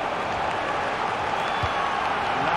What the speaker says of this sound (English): this crowd making some noise now